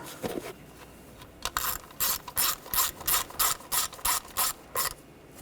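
A ratchet wrench tightens the ignition coil screw on a 2013-2019 Ford Escape, giving a close, steady run of about nine rapid clicking bursts with no talk.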